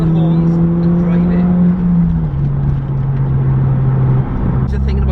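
A modified Honda Civic Type R, a road-legal race-style car, pulls hard with a steady loud engine drone that shifts pitch partway through, heard from inside the car.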